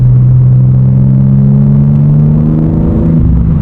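A BMW engine revs hard under turbo boost, a loud, close, continuous deep rumble whose pitch sweeps and shifts through the rev range, with no voices over it.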